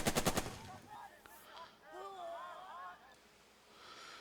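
Burst of rapid automatic gunfire from the war strategy game Burden of Command, a quick string of loud close shots at the start followed by quieter scattered battle noise and faint whistling tones.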